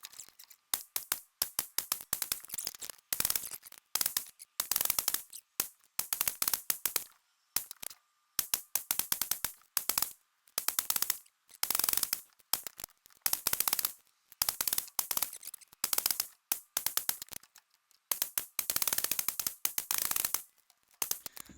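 A PSA M4 rifle firing brass-cased ammunition during a reliability test: rapid bursts of sharp shots, many strings of fast fire broken by short pauses, loud and close.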